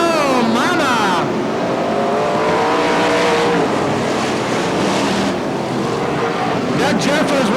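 Race cars of the Budweiser Racing Series roar around the Bakersfield track, the engines loud and continuous with sweeping pitch changes as cars pass, under a race announcer's commentary.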